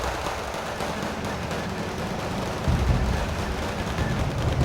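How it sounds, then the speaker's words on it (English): Heavy bombing from an SU-24M strike jet in the Wargame: Red Dragon battle game, a dense continuous rumble of explosions and gunfire that swells louder partway through, with no talk. "SU-24M with their coup de grace bombing"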